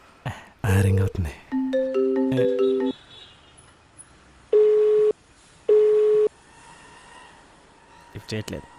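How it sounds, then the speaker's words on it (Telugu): Phone ringback tone of an outgoing call, starting with a quick series of stepped electronic beeps followed by two evenly spaced long tones, clear and close. "రింగ్ అవుతుంది."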